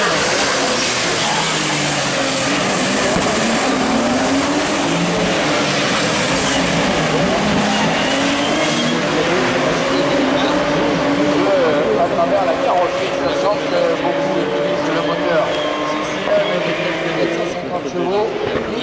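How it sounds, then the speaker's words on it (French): Nissan Micra rallycross race car on a 1026-metre circuit, its engine revving and droning continuously in the distance beneath constant loud commentary from an announcer. "Thierry Dambeau, c'est la première sortie de cette Micra."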